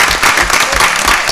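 An audience claps steadily at a board meeting, a dense, continuous patter of many hands that fills the room from start to finish.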